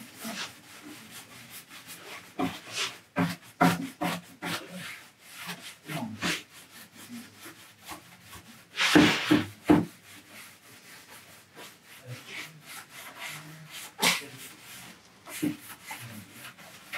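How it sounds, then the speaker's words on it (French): Brush scrubbing over a decorative painted glaze finish to lighten it, giving soft irregular rubbing strokes and scratchy swipes in short bursts, fairly quiet and close, with one louder sweep midway. "Et avec ma brosse, je vais retirer un petit peu le tout."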